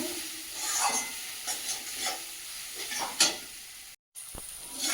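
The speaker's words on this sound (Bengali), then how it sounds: "কাশ্মীরি লঙ্কার গুঁড়ো ভালো করে কষিয়ে নেব" Kashmiri chilli powder and spices frying in oil for a mutton curry, with a steady low sizzle broken by intermittent scraping stirs close by and a brief dropout near the end; no one speaks.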